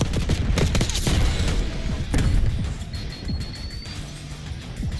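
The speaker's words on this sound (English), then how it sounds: "I love how quickly Semtexes explode" Semtex grenade blasts mixed with gunfire in Black Ops 6 multiplayer, a dense loud run of booms and shots at first, easing into scattered smaller impacts and crackles afterward.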